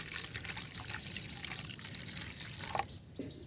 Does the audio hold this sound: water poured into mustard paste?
yes